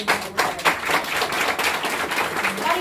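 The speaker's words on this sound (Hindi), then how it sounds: "एक बार तालियां बजा लो" Clapping from an audience at a Hindi-speaking team meeting welcoming a new member, uneven and fairly close, with loose bursts of hands over a few seconds.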